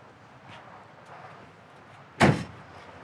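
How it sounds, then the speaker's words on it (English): A 1962 Chevrolet Impala car door closes with a single solid thunk near the end, preceded by faint creaks and handling sounds in a quiet setting. "Doors open and close, excellent."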